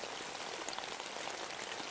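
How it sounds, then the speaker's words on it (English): Soft, steady rain falls with dense, even pattering of drops across the whole stretch, gentle and continuous with no voices. "as the rain falls softly"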